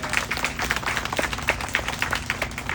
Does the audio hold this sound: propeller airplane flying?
no